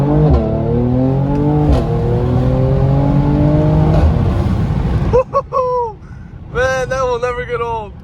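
A 2020 Mercedes-AMG C43 fitted with an AMG performance exhaust pulls hard through the gears, its engine note climbing and dropping at each upshift, then revving again in short bursts, loud and close, with a voice speaking over it.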